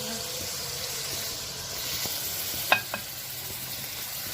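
Chicken liver with spices frying and being stirred in a pan, a steady soft sizzle with a couple of brief spoon knocks near the end, close by, no talk.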